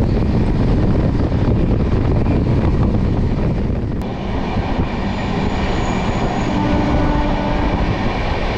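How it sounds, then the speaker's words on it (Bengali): Bikaner–Howrah superfast express train running steadily after departing Asansol, a continuous loud rumble and rattle of wheels and carriages with a brief sharp click midway, heard from on board. "10 মিনিট পরে এই ট্রেনটি আসানসোল থেকে ছেড়ে দিল।"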